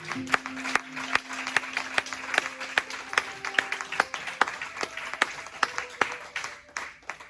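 A church congregation applauding and acclaiming God: steady rhythmic clapping from many hands at a brisk even beat, with a sustained tone and crowd voices underneath in a reverberant hall.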